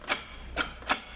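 A transmission drum is turned with channel locks during a Chrysler 42RE automatic transmission rebuild, giving three short scraping, rasping strokes at uneven intervals, close and moderately loud, with no talking.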